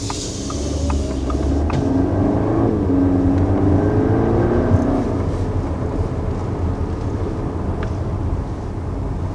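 A 2020 Audi A4 in dynamic drive mode accelerating, a steady low engine rumble with road noise that swells slightly mid-run and holds a continuous drone throughout.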